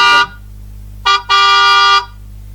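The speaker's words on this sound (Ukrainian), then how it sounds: "Вірно, це сигнал машини." A car horn honks three times, a short beep, another short one, then a longer sustained blast, loud and close.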